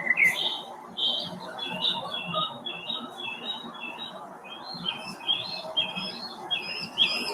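Loud birds squawk outdoors near an apartment door, a steady run of harsh, repeated calls carrying over faint background noise for several seconds, with no talk.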